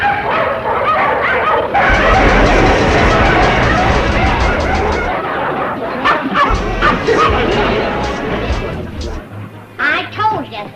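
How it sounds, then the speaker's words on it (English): Several dogs bark and yip excitedly in a hillbilly sitcom chase scene, loud and busy with overlapping yelps, some whimpering and a vehicle rumbling underneath. "Them dogs look hungry enough to run him to the state line."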